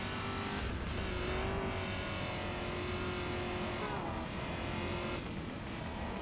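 Lamborghini engine in the video game Driver San Francisco, a continuous racing roar with shifting pitch as the car speeds along, steady and fairly quiet throughout.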